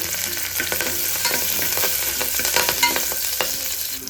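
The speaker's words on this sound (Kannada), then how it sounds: "ಎಣ್ಣೆ ಕಾದಿದೆ. ಸ್ವಲ್ಪ ಕರಿಬೇವು ಮತ್ತು ಸ್ವಲ್ಪ ಬೆಳ್ಳುಳ್ಳಿ, ಒಂದು 3 ಎಸಳು ಬೆಳ್ಳುಳ್ಳಿ ಹಾಕ್ಕೊಳ್ತಾ ಇದ್ದೀನಿ." Curry leaves and about three garlic cloves frying in hot oil in a pan for chicken liver gravy, a loud continuous sizzle and crackle with stirring scrapes and no voices.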